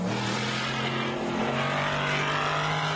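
An off-road vehicle engine drones steadily on the Nitto ski jump at the MetalCloak Stampede off-road race, holding a sustained rising tone with no talk.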